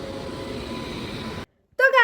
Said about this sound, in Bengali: আধ ঘন্টা ধরে দাঁড়িয়ে তারপর ফাইনালি ট্রেন ঢুকছে